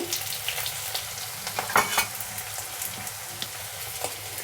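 Onions fry in a pan with salt and turmeric for a cabbage curry, a dense crackling sizzle broken by repeated scraping stirs, close and steady, with no talking.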